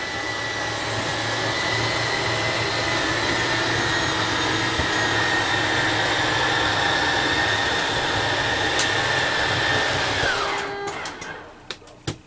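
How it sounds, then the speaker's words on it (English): An electric RV slide-out motor on a 2018 Winnebago Micro Minnie 2106 FBS whines loudly and steadily for about ten seconds while retracting, then winds down and stops with a few clunks. "turn the power on and bring the slide in, and it is all electric"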